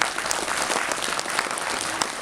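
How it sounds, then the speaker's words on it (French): Audience applause at a French association's annual general meeting in Moselle, a steady wash of clapping from a seated crowd that holds at even loudness throughout, with no voices over it. "Vous pouvez l'applaudir."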